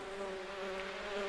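Steady insect-like buzz of a bee or wasp character in the indie video game The Plan, a continuous faint drone holding an even pitch throughout with no talk over it.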